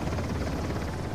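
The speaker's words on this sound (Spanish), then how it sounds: "El helicóptero ha despegado con nuestro colmillo." A helicopter lifts off in Uncharted: The Lost Legacy, a steady close rotor rumble and engine drone that holds for about a second and swells slightly at the end.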